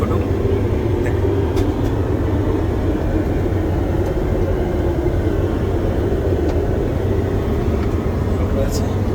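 Steady loud engine and air roar fills the interior of a passenger airplane washroom on a flight from Kolkata to Oman, a continuous low rumble with no breaks.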